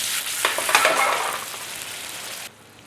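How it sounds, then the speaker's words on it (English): Chilli meatballs with spring onion are stirred in a hot pan, giving a loud, steady sizzle with soft scraping strokes that stops abruptly near the end. "Just a gentle stir around."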